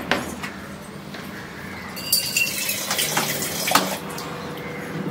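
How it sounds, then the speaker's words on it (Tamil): Water runs and splashes into a pan of masala for an anchovy fry for a few seconds, growing a little louder midway, with light clinks and no talking. "கொஞ்சம் தண்ணி ஊத்திக்கலாம்"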